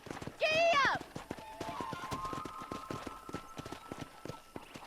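Hooves clip-clop at a steady gallop through a Red Dead Redemption horse ride, a rhythmic drumming that carries on under a loud voice shouting near the start and a faint sustained tone.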